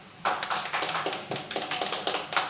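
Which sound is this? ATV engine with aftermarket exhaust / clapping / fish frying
clapping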